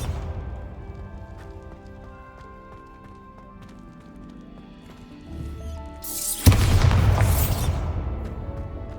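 A Bombarda blasting spell in Hogwarts Legacy goes off as a loud, broad explosion late in the clip, following a stretch of quieter game ambience and footsteps.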